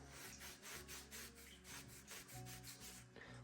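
A Scotch-Brite pad scrubs electrical contacts from a Polaris 500 in quick rhythmic strokes, a faint close rubbing, no voices.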